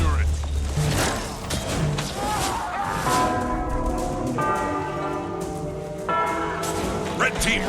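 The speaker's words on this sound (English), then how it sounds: "Red team, ring the bell." Bell ringing in a Guild Wars 2 PvP match, with repeated metallic tolls layered among game effects and other tones, steady and moderately loud throughout.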